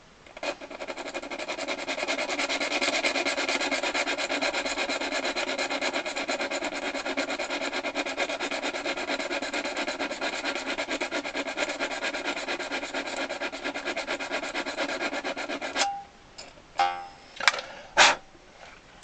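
A bass reed from a Hohner Carmen 24 bass accordion is filed to sharpen its tuning, a steady close rasp running for about fifteen seconds before breaking into a few short separate strokes.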